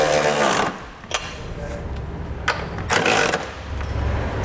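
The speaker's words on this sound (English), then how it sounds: "I'm gonna come back with a 3/4 inch socket and I'm gonna snug up all my hardware." Ratchet or power driver with a 3/4 inch socket snugging trailer hitch hardware under a 2015 Subaru, bursts of loud whirring and rattling separated by short pauses, close by.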